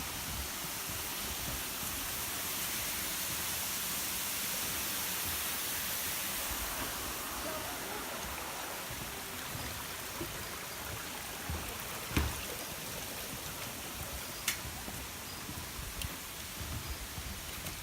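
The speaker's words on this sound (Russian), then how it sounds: "А вот он второй водопад." Agura waterfall near Sochi gives a steady, broad rush of falling water that holds even throughout, with a few faint clicks and knocks on top and no voices.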